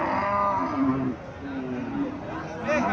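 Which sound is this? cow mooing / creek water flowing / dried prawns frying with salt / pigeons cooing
cow mooing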